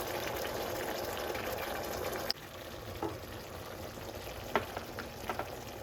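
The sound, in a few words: tomato sauce simmering in a pan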